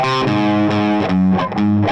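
Distorted electric guitar plays a single-note chorus line sliding into sustained notes with an effects-laden tone, loud and alone with no talking.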